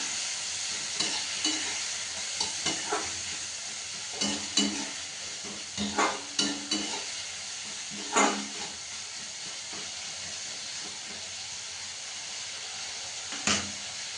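Vegetables cook in a little oil and water in a pan with a hissing, steamy sizzle, and a spatula stirs and scrapes in scattered bursts. No voices are heard.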